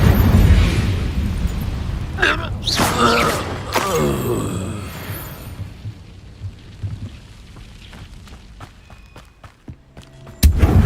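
An Incendio fire spell is cast in Hogwarts Legacy: a loud, roaring burst of flame with deep rumbling that swells and then fades, followed by another sharp impact near the end.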